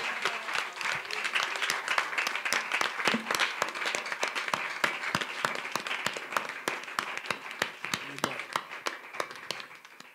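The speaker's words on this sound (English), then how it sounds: "let's give the Lord a big hand clap for our giving" Church congregation clapping hands in praise, a lively run of sharp overlapping claps that goes on steadily for about ten seconds with a faint murmur of voices underneath.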